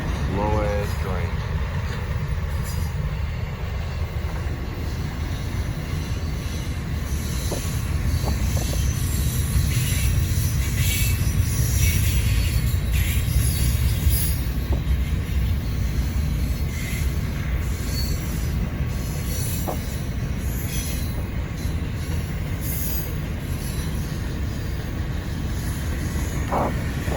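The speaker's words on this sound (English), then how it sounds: "Slow ass train." A slow Norfolk Southern freight train rolls past close by, a continuous low rumble of wagons with clattering wheels and rail squeal, and a voice speaking briefly over it.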